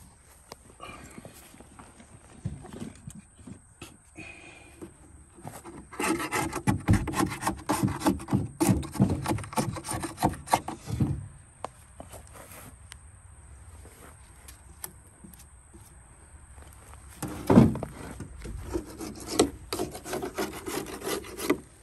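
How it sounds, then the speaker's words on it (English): A drill fitted with a sanding attachment grinds old gasket material off a hotshot truck engine with an oil leak, coming in uneven rasping bursts between quiet gaps, fairly close. "I'm gonna use that to sand that stuff off."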